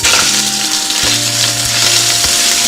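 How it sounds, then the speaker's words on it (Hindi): Chicken pieces frying in a kadhai with ginger-garlic paste for chicken fried rice, a steady loud sizzle with low hum beneath and a couple of stirring knocks. "और इसे हल्का फ्राई कर लेंगे 2 से 3 मिनट तक।"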